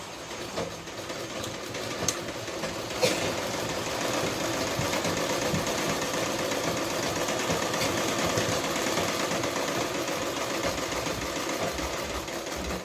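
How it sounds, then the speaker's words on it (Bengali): A sewing machine stitches a princess-cut blouse, its motor running in a steady, fast mechanical chatter close by, with a couple of brief clicks early on. "এবার সেলাইটা করে দেবো।"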